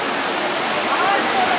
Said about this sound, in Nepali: यो चाहिँ ठ्याक्कै तलपट्टिको झरना हो